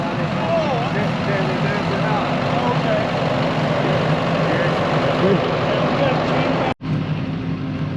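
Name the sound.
tractor engine running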